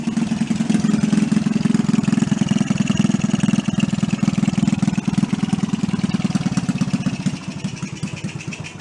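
An old Honda 50 Monkey bike runs with a small single-cylinder engine at a close, loud and steady rapid putter. It eases slightly toward the end and no one talks.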